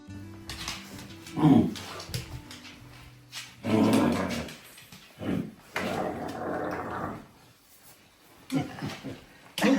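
A dog barks and whines in several separate bursts, close by, with quieter gaps and some faint rustling between them.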